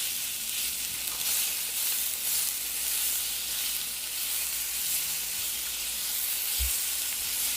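Shredded chicken frying with onion in a pan for creamy sopas, a constant loud hissing sizzle close up, steady throughout with one brief low thump near the end.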